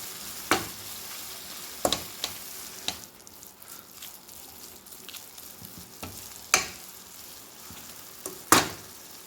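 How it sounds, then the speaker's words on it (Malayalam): Fenugreek leaves with salt and turmeric are stirred in a pan, with soft sizzling under scattered sharp clicks of the spoon against the metal. "ആവശ്യത്തിനുള്ള മഞ്ഞൾപ്പൊടിയും ചേർക്കാം നന്നായിട്ടൊന്ന് ഇളക്കി യോജിപ്പിക്കാം"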